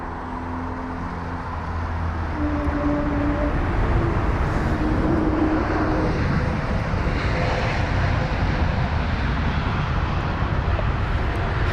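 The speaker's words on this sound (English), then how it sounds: "there's the Swiss 320neo now" Swiss Airbus A320neo airliner landing at London Heathrow, a steady loud roar of jet engines building and sustained throughout, with faint tonal whines riding over the broad rumble.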